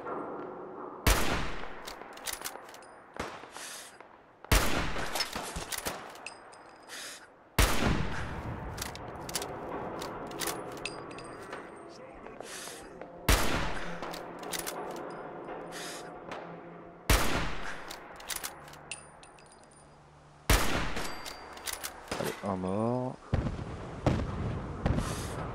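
Fallout 4 gunfire rings out in loud, sharp bursts, about half a dozen separate volleys spread across the stretch, each one a hard crack followed by a short rattling tail.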